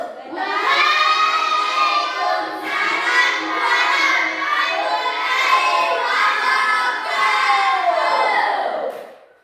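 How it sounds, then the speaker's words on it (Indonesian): Students in a classroom cheer and shout loudly together for a group after its presentation, a sustained wall of young voices swelling and dipping for about nine seconds, with little distinct clapping. "tepuk tangan untuk kelompok 4"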